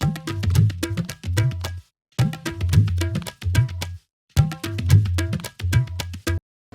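Two layered tabla and dholak loops sounding together, weighty bass strokes under crisp high slaps, repeating in bars with short pauses between, no voices.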